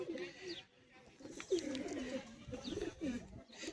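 A female pigeon, a Madrasi breed, gives soft repeated low coos in short phrases, close but quiet, with faint voices at times.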